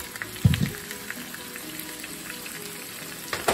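Peppers and onions frying in a pan with steak, a steady sizzling crackle with a couple of louder bursts near the start and end, close and alone.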